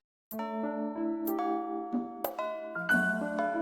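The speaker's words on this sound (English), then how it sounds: "The bell rings to signal the start of the 5th period" A school bell in the Fate/Stay Night visual novel marks the start of fifth period as a series of clear, sustained chime tones that ring one after another, loud and alone.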